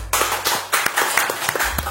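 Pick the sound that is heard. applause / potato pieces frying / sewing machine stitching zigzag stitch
applause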